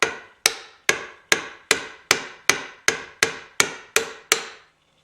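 A mallet strikes a chisel into redheart wood while making a bandsaw box, eleven sharp, evenly spaced taps in a steady rhythm, close and clear with no talking.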